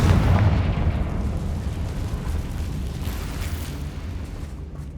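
Spell-blast explosions from the Bombarda and Confringo charms in the Hogwarts Legacy video game, a heavy booming burst at the start that rumbles and slowly decays into a dense, continuing roar.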